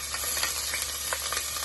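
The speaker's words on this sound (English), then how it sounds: "Hear that sizzle? It's definitely hot." Sweet pepper, onion and garlic sizzle steadily in a hot sauté pan, a dense continuous hiss broken by a few soft stirring knocks, close and alone.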